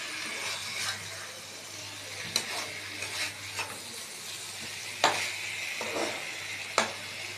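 Egg curry masala sizzles softly in a pan while a spoon stirs it, with scattered scraping clicks against the pan over a steady low frying hiss.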